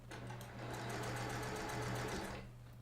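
Sewing machine stitching quilt pieces together, a steady fast mechanical whir with rapid needle ticks, close and alone for a couple of seconds before stopping.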